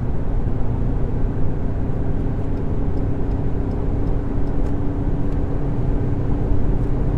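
A 2021 Ford Ranger Raptor pulls hard at around 170 km/h, its engine drone and heavy wind and road roar forming a loud, steady, unbroken wash with no voices.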